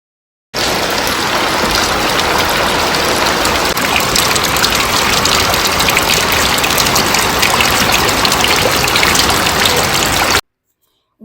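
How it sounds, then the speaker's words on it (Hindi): Rainwater gushes rapidly through a village channel after heavy rain, a loud, continuous rushing roar of fast-moving water that stays steady throughout, close up, with no voices heard. "पानी देखिए कितने तेज़ से आ रहा है"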